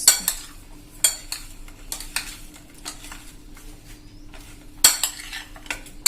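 Bitter gourd is mixed with turmeric in a pan. A spoon scrapes and clinks against the metal in irregular repeated strokes over a faint background hum, with no sizzle to speak of.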